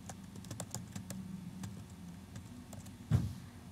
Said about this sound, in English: We're going to type in Mary Shelley and then Frankenstein.